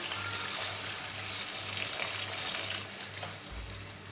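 Water pours into a hot pan of frying beef trotters for curry with a broad hissing sizzle, steady and close, and a brief low thump near the end.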